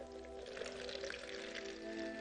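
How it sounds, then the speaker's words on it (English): Dark, thick enema solution is poured through a strainer into a measuring bucket, giving a soft, steady liquid pour that runs continuously, faint and close, with no talk. "you're going to start pouring this off into your measuring bucket here"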